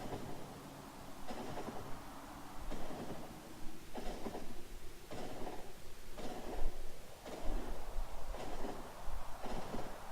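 A train running on tracks in the factory-building game Factorio, a rhythmic series of rumbling wagon passes and clacks repeating roughly every second or so at moderate loudness, with no talk over it.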